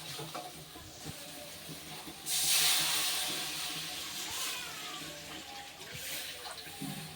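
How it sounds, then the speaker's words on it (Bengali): Water poured into a frying masala for a chanar kofta curry gravy gives a sudden loud hissing splash that then settles into a steady bubbling sizzle, close up with no talk. "এবার দিয়ে দেবো এর মধ্যে আমি জল।"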